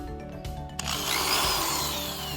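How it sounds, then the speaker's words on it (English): A cordless power drill whirs close up as it backs screws out, one short burst followed by a longer sustained spin. "I'm going to go ahead and take my drill and unscrew it all"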